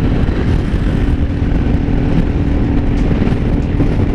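A Yamaha XMAX 250 scooter fitted with an aftermarket Smoke muffler exhaust roars loud and close, a dense continuous engine drone with no pauses or talking.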